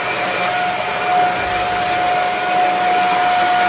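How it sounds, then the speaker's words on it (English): A vacuum cleaner runs steadily in a basement during spring cleaning, its loud, constant motor whine holding a sharp tone with slight swells in intensity. "Let me finish vacuuming and then we'll talk."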